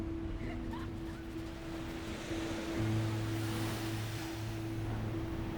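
Ocean waves roll and wash against the shore in a steady, broad surf, with wind buffeting the microphone and a low hum running throughout.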